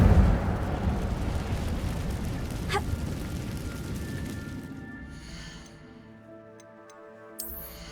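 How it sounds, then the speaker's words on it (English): A fire spell bursts in Hogwarts Legacy: a loud, broad rushing roar with a sharp crackle partway through that fades into a quieter magical shimmer and tonal hum, ending with a small bright chime. "Incendio!"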